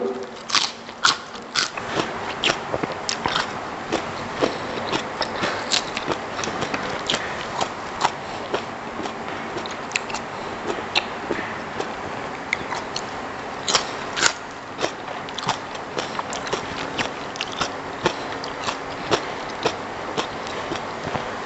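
Snails are eaten crunchily in a mukbang, with continuous close-up biting, cracking and crunching of shells in a steady irregular rhythm and no talking.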